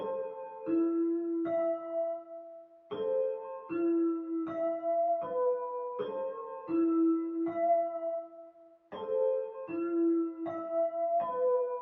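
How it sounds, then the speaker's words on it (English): Bright, bell-like celesta tones from a Kontakt sample play a simple repeating melodic pattern, dry and clean without effects, with short plucky notes and no other sounds. "It's a Celeste sound from Contact, and without effects, sounds like this."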